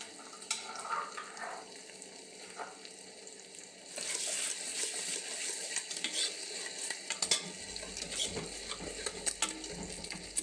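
Green garlic and ground ginger paste frying and being stirred in a pan, a steady sizzle with scraping spoon strokes that grows louder partway through, alone without talk.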